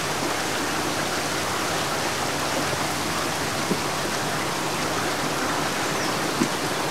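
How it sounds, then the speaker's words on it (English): Heavy rain pours down steadily at a boat ramp in a dense, continuous hiss, with a couple of faint knocks and no voices. "pouring down rain"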